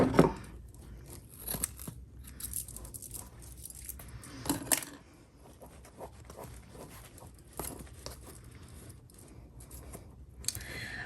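Scissors trim the excess tulle from a tumbler's gift packaging, giving a few close, crisp snips amid soft rustling of the fabric, with no voices.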